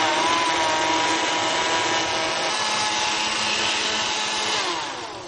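A blender runs steadily at high speed, blending watercress and spinach soup, a loud continuous whirring roar that holds level before easing slightly near the end.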